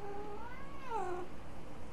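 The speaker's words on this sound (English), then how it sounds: "No more meows." A cat in the God of War Ragnarok video game lets out a single drawn-out, wavering meow over steady game background sound.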